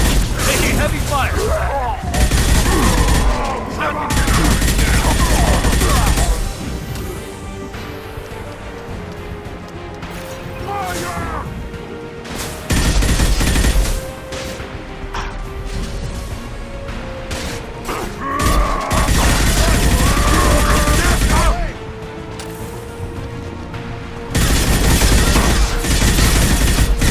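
Gunfire erupts in bursts during a Mass Effect 2 combat scene, with loud automatic fusillades and crashes coming in repeated waves between quieter stretches.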